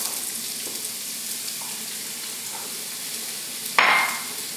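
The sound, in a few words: onions frying in hot olive oil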